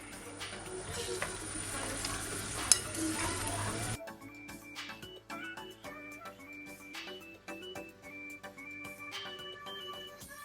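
Crab being stirred into curry in a pot, with soft clinks of a utensil against the pot over a faint sizzle, then gentler scraping and stirring sounds with light metallic taps.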